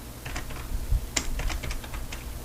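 Quick, irregular keystrokes typed on a computer keyboard, close and fairly soft, a short burst of clicks with a few sharper taps, with no talking.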